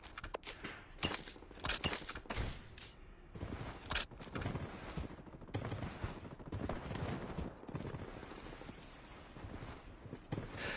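Gunfire in the shooter game Blood Strike comes as repeated close, loud bursts of rapid shots with short pauses between volleys, and no talk over it.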